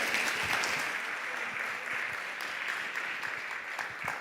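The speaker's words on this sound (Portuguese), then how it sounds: "um aplauso para a Mavi" Church audience clapping steadily in dense, even applause that holds at a moderate level throughout, without pauses.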